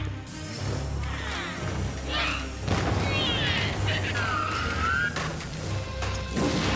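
Ghost hurling fireballs in Luigi's Mansion 3, with repeated crashing, whooshing blasts and swirling magical effects layered together, loud and busy, while a voice reacts over them.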